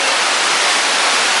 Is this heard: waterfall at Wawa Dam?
yes